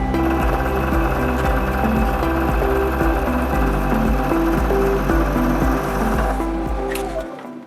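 A milling cutter taking ten thousandths off the surface of a metal block, producing a loud, steady, close machining drone with a throbbing low hum that winds down at the end.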